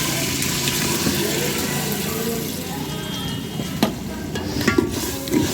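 Boiled lentils tipped into a pan of frying tomato and spice mix, giving a steady close sizzle with wet stirring and a few clinks of a utensil throughout.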